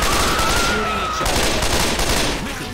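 Dense, continuous gunfire from Left 4 Dead 2 fills the whole stretch, a loud, steady barrage with no break, nearby, and a faint tonal whine drifting through it.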